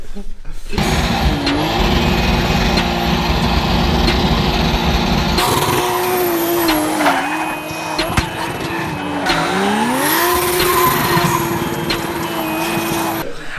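A loud car engine revs repeatedly, its pitch climbing and dropping as the throttle rises and falls, close by.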